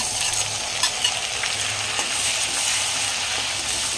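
Onion, ginger and garlic paste fries in hot oil and butter with a steady, close sizzle, broken by a few sharp spatters and the light scrape of stirring.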